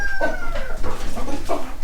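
Backyard laying hens cluck and chatter continuously at close range, with a couple of sharper squawks rising out of the steady flock noise.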